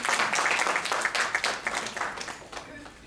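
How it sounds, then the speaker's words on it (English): A crowd at a handwashing campaign event gives a round of applause for actress Kajol, a dense burst of clapping that is loudest at the start and thins out, with some talk mixed in. "Let's give her a big round of applause."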